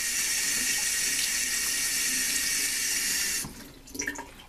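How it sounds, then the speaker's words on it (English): Tap water runs steadily into a sink while a makeup brush is rinsed under it, then the flow stops, leaving faint drips and light handling sounds. "Swirl it in your hand till it rinses clean."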